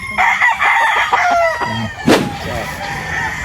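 Rooster crowing at a chicken farm, a loud, close, drawn-out cock-a-doodle-doo with a sharp burst near the middle and other fowl calling faintly behind.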